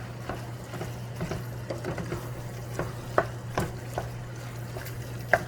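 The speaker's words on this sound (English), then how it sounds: "just make sure you stir in your breakfast sausage" Breakfast sausage browning in a pan while being stirred, with soft scraping and clicking spoon strokes at an uneven pace over a low steady hum and faint sizzle, close and quiet, no talk.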